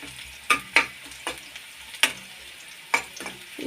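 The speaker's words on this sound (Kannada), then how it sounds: "ಫ್ರೈ ಮಾಡ್ಕೊತಾ ಇದ್ದೀನಿ ನಾನಿವಾಗೆ ಕರಿಬೇವು ಸೊಪ್ಪು ಹಾಕತ್ತೀನಿ ನೋಡ್ರಿ" Curry leaves fry in hot oil in a pan for a home-style beans and chana dal palya, giving a steady low sizzle punctuated by five or six sharp, close crackling pops at uneven intervals.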